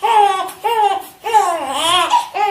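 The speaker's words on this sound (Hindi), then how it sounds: "वह बच्चा जोर जोर से रोने लगा।" A baby wails loudly and close by in long, rising cries, with short pauses for breath between bursts.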